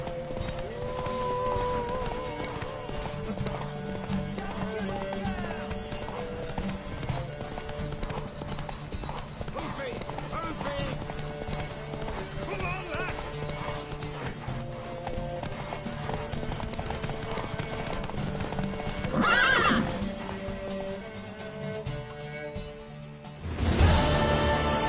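In The Witcher 3, a horse gallops in a steady, rapid clip-clop of hooves that keeps going throughout. It grows louder near the end, and voices speak over it at times.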